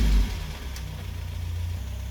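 A turbocharged Honda engine from a go-kart runs on a dyno, giving a steady low idling rumble with a faint mechanical rattle, close and continuous.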